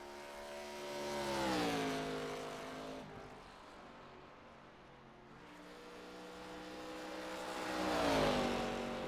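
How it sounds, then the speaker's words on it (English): A race car at Rockingham Speedway roars past twice, engine pitch climbing and falling as it approaches and recedes, with a quieter lull between the passes. "Kahn swinging that car right around."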